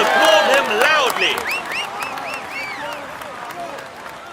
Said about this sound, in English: Come on, let's applaud him loudly.